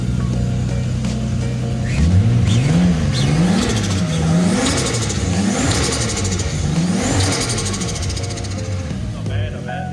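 A Nissan R32 Skyline engine on a dyno, held at a rough idle, then revved in a series of rising and falling pulls close by, loud and growling throughout.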